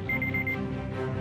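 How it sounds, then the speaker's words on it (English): An alarm goes off in a short burst of repeated high electronic beeps at a steady pulse, fairly loud and close, with no talking. "that's my alarm"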